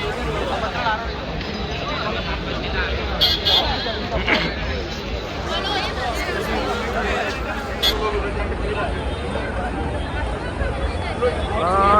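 Dense crowd hubbub fills MG Road in Bangalore during the New Year festivities, a constant babble of many voices with passing vehicles, and one person talking close over the steady din.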